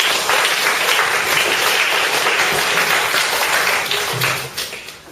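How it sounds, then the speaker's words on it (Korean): A church congregation applauds loudly and continuously in dense, close clapping, the applause thinning slightly near the end. "박수 한번 해주세요."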